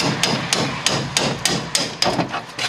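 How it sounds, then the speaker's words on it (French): A small hammer knocks at the spot welds on a car's trunk floor sheet metal, a regular series of about ten sharp, close metallic strikes roughly every quarter second. "soit on fait gentiment avec un petit marteau pour se dégager le travail"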